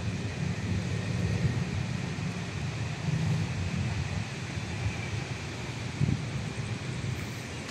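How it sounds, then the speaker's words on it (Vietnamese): Cold night wind blowing around a Buddhist temple, a steady rushing roar buffeting the microphone with low gusts and occasional bumps, no speech. "Công nhận gió lạnh thiệt luôn á."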